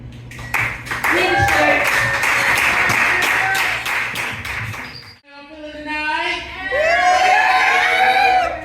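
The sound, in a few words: live show crowd clapping and cheering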